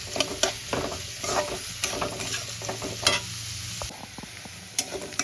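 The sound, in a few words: chopped onion frying in a pan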